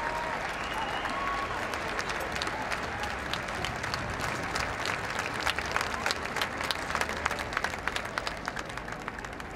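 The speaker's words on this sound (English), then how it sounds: "Huge applause here around the paddock" Crowd applause ringing around the paddock at Royal Ascot racecourse, a dense, steady wash of many hands clapping from a large outdoor gathering, sustained and even throughout with no voices standing out.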